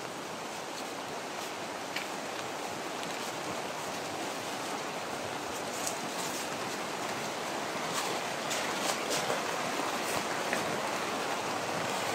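Steady, dense hiss of rain pouring down without a break, even and fairly loud throughout, with no voices.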